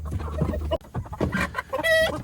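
Chickens cluck and squawk inside a cramped chicken coop, loud and close, with one rising, drawn-out call near the end and no talking over it.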